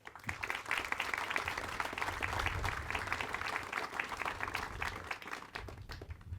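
Audience at a veterinary sciences building groundbreaking ceremony gives a steady round of applause, moderately distant, fading toward the end.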